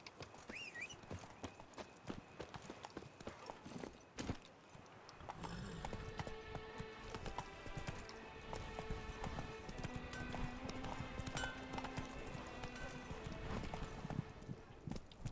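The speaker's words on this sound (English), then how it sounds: "lo que le cuesta a veces empezar a cabalgar a Sardinilla." Hooves clip-clop steadily from a horse in The Witcher 3 video game, with an occasional whinny and game music and ambience running beneath, fairly close and continuous through most of the stretch.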